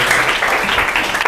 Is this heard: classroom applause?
yes